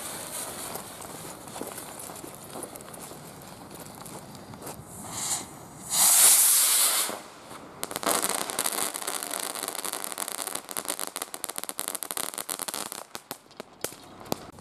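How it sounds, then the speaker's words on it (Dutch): A skyrocket filled with ten crackling ribbons of category 1 fireworks launches with a loud hissing whoosh. A long stretch of dense, rapid crackling follows at moderate distance. "als eerste vuurpijl met de 10 knetterlinten"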